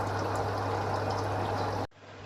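Water runs in a steady, full stream into a catfish display tank, pouring continuously at close range before cutting off abruptly near the end, leaving only a quiet hum.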